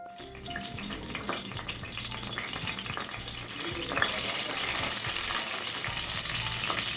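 Spices tempering in hot oil in a pan for a moong dal and urad dal rice dish, steady loud frying sizzle that surges into a bright, hissing crackle midway through.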